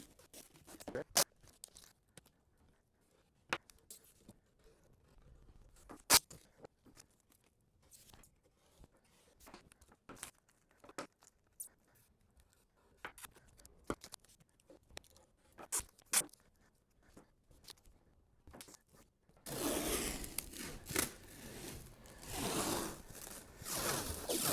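Plastic bag being taped and shrink-wrapped around a KLH Model Five speaker cabinet: scattered crinkles, tape rips and sharp snaps up close, then a denser, louder stretch of continuous wrapping rustle toward the end.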